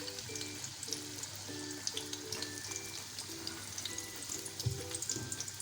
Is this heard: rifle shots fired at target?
no